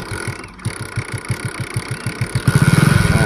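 A motorcycle engine is kicked over, its low pulsing firing at first loose and uneven, then settling into a steadier, louder idle throb near the end, with no talking.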